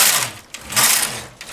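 A Brother knitting machine carriage sweeps back and forth across the needle bed while knitting shell-trim rows, giving loud whooshing, rattling passes with a brief pause between strokes, heard alone and close.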